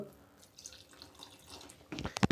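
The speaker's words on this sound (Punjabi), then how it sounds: "ਤੇ ਉਸ ਤੋਂ ਬਾਅਦ ਪਾਵਾਂਗੇ ਪਾਣੀ ਥੋੜਾ ਜਿਹਾ ਹੋਰ" Water poured into thick gram flour (besan) batter for a simple bread recipe: a faint, soft trickle at first, then a short burst of louder splashing and sloshing at the very end, with no talking.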